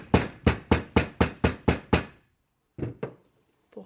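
Rapid, evenly spaced sharp knocks, about eight in a row, drive an awl through tanned hide. After a short pause come a few more scattered taps, close and fairly loud.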